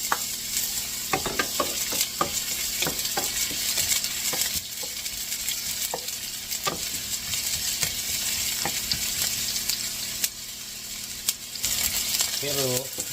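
Freshly butchered meat cooking in a pan, a loud ongoing sizzle punctuated by frequent clacks and scrapes of stirring, with a brief vocal sound near the end.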